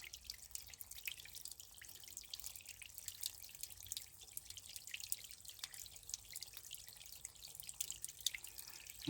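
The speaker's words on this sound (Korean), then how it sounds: "눈 감고 물소리만 들어보십시오" Mountain water running steadily in a continuous, fairly quiet trickle and drip, with bright splashing texture and no voices over it.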